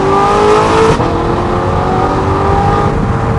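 Audi R8 exhaust revving hard at high RPM, a loud, close, continuous engine roar with rising and falling pitch and a brief dip near the one-second mark.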